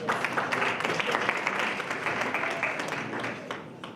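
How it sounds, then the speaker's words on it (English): An audience at a business panel discussion applauds, a dense burst of clapping from a room full of people that stays steady for a few seconds and then thins out. "Can you please give a round of applause for that?"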